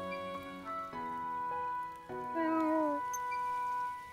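A cat meowing in the video game Eiyuden Chronicle: Rising, a few drawn-out, sliding meows layered over sustained tonal game music, moderately loud and clear.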